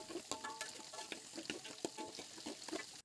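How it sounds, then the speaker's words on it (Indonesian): Sambal chili paste sizzles and spits in hot oil while being stirred, crackling steadily with repeated scraping strokes of the spatula, close and fairly quiet. "Pastikan kita masak sambal kita sampai dia pecah."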